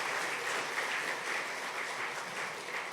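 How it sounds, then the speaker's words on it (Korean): A church congregation applauds during a Sunday service after a child's baptism, a soft, even wash of many hands clapping heard from a distance and holding steady throughout. "박수해 주세요."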